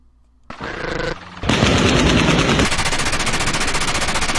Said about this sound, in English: That was clips from somebody shooting